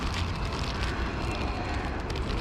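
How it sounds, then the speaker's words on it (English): A train rumbles past behind a parking lot near a small train station, a dense, steady roar that stays loud throughout the moment. "Train just went by."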